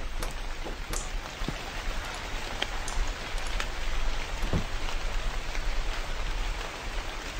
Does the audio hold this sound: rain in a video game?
yes